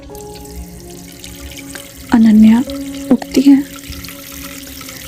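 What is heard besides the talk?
water running from a bathroom tap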